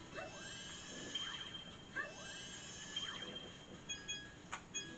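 A horse neighs repeatedly in the Princess Peach Showtime video game, several whinnies with descending sweeps over a faint, busy game soundtrack, followed by short clopping sounds toward the end.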